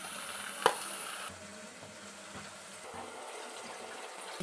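Green chilli and onion paste dropped into hot oil for a small-fish curry, one sharp hit followed by a steady, fairly quiet sizzle that keeps crackling, with no talking.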